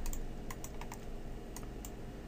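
Keyboard keys pressed while working in Autodesk Maya 2015, a quick cluster of crisp clicks followed by two more spaced taps over steady background hiss, with no talking.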